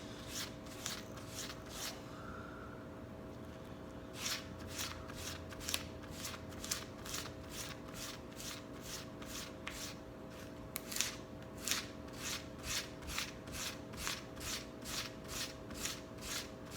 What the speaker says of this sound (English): to sand the end down flat